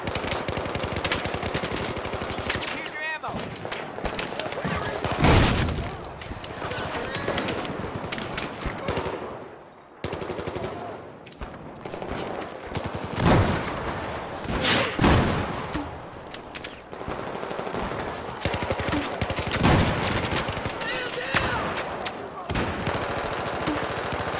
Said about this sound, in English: getting shot in the fucking face